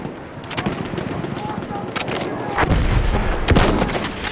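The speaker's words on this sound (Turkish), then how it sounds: "Makinalı tüfek." Machine gun fire in Battlefield 1 multiplayer on the Gallipoli operation, dense rattling bursts with sharp louder shots and booms over constant battlefield din, growing heavier toward the end.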